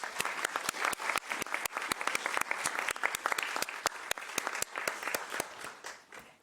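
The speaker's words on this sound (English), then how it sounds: "a round of applause to all the regions." Round of applause at a conference from a modest audience, sharp separate claps in a steady patter, fairly quiet and distant-sounding, with no talk over it.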